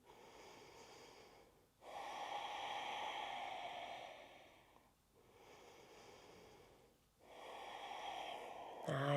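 Slow, steady breathing during a yoga dancer pose balance, close and clear: about three long airy breath cycles, each a broad hiss that swells and fades, separated by short quiet pauses.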